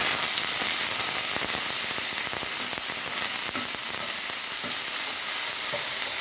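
Chopped onion and tomato fry with a steady close sizzle in a pan while a utensil stirs and scrapes through them, with soft clicks and taps scattered across the continuous crackle.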